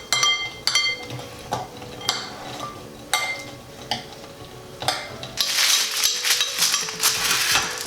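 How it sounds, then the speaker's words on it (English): Roasting nuts are stirred in a pan, giving a run of clinking utensil-on-pan strikes at an irregular pace. Near the end the sound shifts to a louder, steady sizzling rattle of the nuts being moved around. "Can you stir the nuts?"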